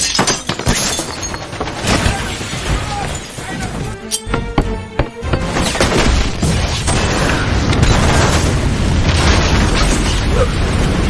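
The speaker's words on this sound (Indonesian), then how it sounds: "John dan Jane berhasil selamat dari ledakan." A loud explosion in an action film, with booming blasts, shattering debris and bursts layered over a dense, continuous roar that runs throughout, and voices appear briefly in the mix.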